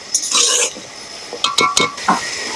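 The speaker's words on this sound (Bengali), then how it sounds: "এখন সুন্দর করে মিক্স করে নিয়ে নিয়েছি এইভাবে আমি কষে নেব" Chicken and potatoes being stirred and sautéed in a pan, with a few quick scraping and clinking strokes of a spoon against the metal, close and sharp, alone.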